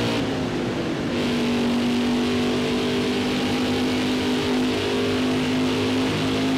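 A NASCAR race car engine in a racing game drones loud and steady, holding a high sustained roar with a slight pitch shift early on, alone without talk.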